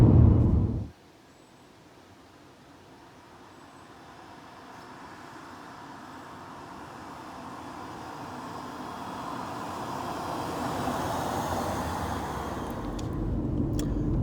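A BMW E46 3 Series Compact with the N46 four-cylinder engine cruises along, a low, steady road and engine hum building gradually as speed rises after a brief louder bump at the start.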